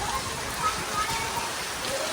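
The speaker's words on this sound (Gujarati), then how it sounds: "જો અત્યારે ફૂલ વરસાદ ચાલુ છે અહીંયા" Heavy rain pours down steadily in a thunderstorm that earlier brought hail, a dense, even hiss of drops on surfaces with no break.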